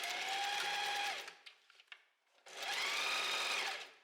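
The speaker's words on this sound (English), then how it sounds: "And now I'm just going to sew a few centimeters over where we have started sewing earlier." A sewing machine stitches a gathered dress in two steady runs, loud and close, with a whirring motor and a rising pitch, separated by a brief pause full of small clicks and handling noises.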